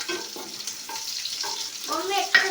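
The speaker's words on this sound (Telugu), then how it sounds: "ఈ కొంచెం వేగినాక ఈ కొన్ని ఉల్లిపాయ ముక్కలు పోసినా కదా" Onion pieces fry in a pan with a soft sizzle and occasional stirring scrapes, while a voice talks faintly over the cooking.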